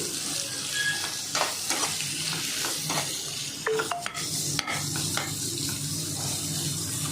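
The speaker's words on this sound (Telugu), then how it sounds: "ఫ్రై అయ్యేంత వరకు మనం తిప్పుకుంటాము కొద్దిగా ఉల్లిపాయ పచ్చిమిరపకాయ ముక్కలు అనేవి" Onion and green chili pieces fry in hot oil while being stirred, a steady close sizzle broken by scraping spoon strokes and small clinks, with no talking.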